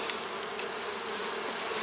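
Honeybees from an opened, queenless hive of about three and a half frames buzz in a dense, even drone, close and continuous, with no voices.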